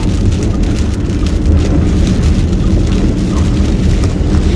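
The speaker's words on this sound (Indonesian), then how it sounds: "kalau terjadi hujan seperti ini, apalagi campur angin seperti ini" Heavy rain driven by wind pours down in Mecca, a dense, steady, loud roar of water that holds unbroken throughout with no talking.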